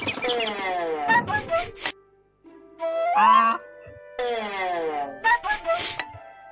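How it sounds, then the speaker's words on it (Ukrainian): Cartoon birds in an animated Bible picnic app chirp and trill after a tree is tapped, giving bright, rapid, sweeping tweets in several close, loud bursts with short pauses between them. "О, ні, ще в нас є тут пташки. Якщо натиснете дерево, є пташки."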